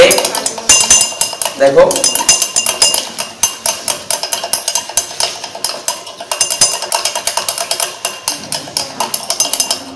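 A glass rod stirs oxalic acid solution in laboratory glassware, clinking rapidly and rhythmically against the glass in close, bright repeated taps, with a brief pause and a short spoken word partway through.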